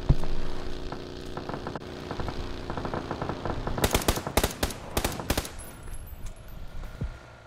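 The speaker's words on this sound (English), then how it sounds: "Somebody's shooting at Miguel now." Bursts of video game gunfire crackle in rapid volleys, first lighter scattered shots and then dense loud rattling bursts near the end, over a low background rumble with no talking.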